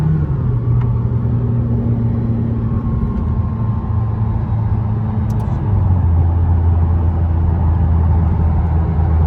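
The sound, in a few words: sports car engine braking and downshifting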